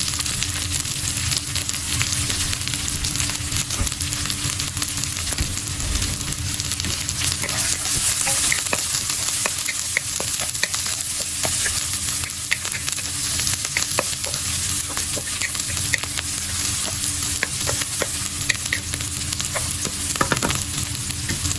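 Diced red onion sizzles steadily in a hot pan for a vegetable stew with chicken in shrimp paste, with frequent scraping stir strokes over a continuous, fairly loud frying hiss and no talking.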